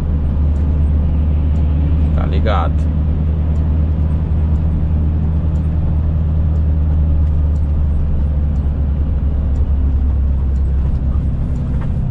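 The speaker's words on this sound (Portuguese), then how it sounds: "Freio motor." A car engine braking on a downhill road in Bahia, Brazil: a steady, loud low engine drone with road noise throughout, and a brief spoken remark early on.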